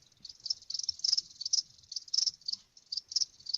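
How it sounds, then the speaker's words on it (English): Crickets chirping in rapid, repeated bursts of high trilling pulses, fairly close and clear against a quiet background with no talking. "Yeah, crickets."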